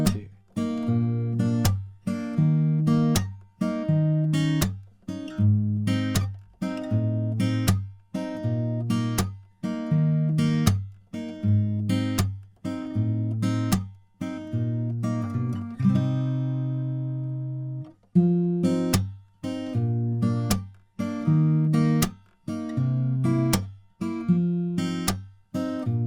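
A fingerpicked acoustic guitar plays a verse of a song with a steady bouncing rhythm of bass notes and plucked chords, close and clear, briefly pausing on a held chord midway, with no voices.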